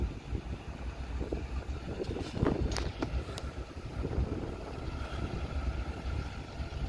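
Heavy CN freight train diesel locomotives throttle up in a steady, loud, low engine rumble with faint clanks over it, heard from outdoors with no talking.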